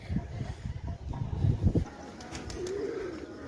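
Pigeons coo softly at Pushkar, Rajasthan, as they are fed grain, among rustling and shuffling sounds, with low warbling calls and the flutter of birds close by.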